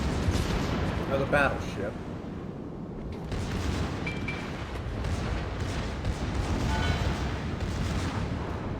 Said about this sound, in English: Looks like Sinop is shooting the other cruiser.